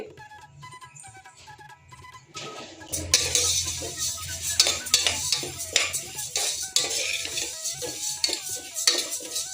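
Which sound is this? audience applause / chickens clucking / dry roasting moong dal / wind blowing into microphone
dry roasting moong dal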